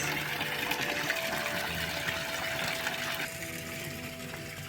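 Non-potable garden fountain water running continuously, a steady broadband rush and splash that stays even throughout, moderately close and fairly quiet.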